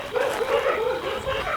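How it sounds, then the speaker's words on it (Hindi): Many dogs bark close by, a recording played back in a place where they seem only a few feet away; a dense, continuous chorus of yelps and barks with some faint talk mixed in. "इतने करीब आवाज है जैसे कोई 2-4 फुट के फासले पे बहुत सारे कुत्ते हैं"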